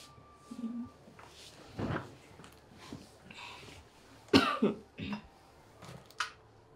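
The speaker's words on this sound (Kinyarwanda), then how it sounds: "agakorora kamereye nabi" Someone nearby coughs several times in separate bursts, with quiet pauses and small rustles between them.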